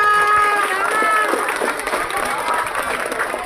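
Students applaud candidate pair 02 at a middle school student council (OSIS) debate in a hall: brisk crowd clapping and cheering, close and lively, mixed with voices and a bright tonal sound at the start.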